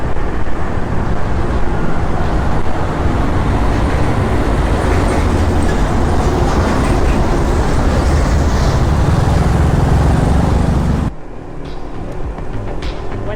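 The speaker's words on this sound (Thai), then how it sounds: "นี่ก็รถไฟเซนหลุย" A BTS Skytrain rolls past near Saint Louis station on Sathorn Road in Bangkok at night, a loud sustained rumble mixed with traffic noise that cuts off abruptly near the end.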